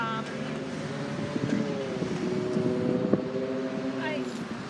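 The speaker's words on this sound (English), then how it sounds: "there's that truck behind me that's making a lot of noise" A truck idles nearby with a steady, droning engine hum and some wind noise underneath while a person talks over it.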